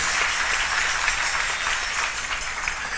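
A church congregation claps together during a sermon, a steady even wash of applause at moderate loudness with no voices on top.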